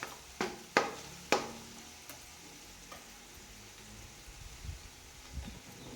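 Biryani gravy fries in a pan with a steady soft sizzle, punctuated early by a few sharp clinks and scrapes of stirring, then quieter bubbling and occasional low stirring sounds.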